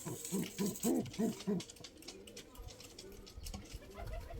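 Pigeons coo close by in a quick run of five repeated throaty calls, then quieter rustling and softer coos follow, with faint background noise.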